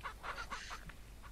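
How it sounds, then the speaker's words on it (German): Chickens in the farming video game Ranch Simulator give faint, quick clucks and squawks, several short calls in a row with no talk over them. "Hühner, lauft mir nicht immer im Weg rum."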